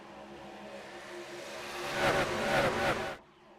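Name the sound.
racing truck engines in iRacing video game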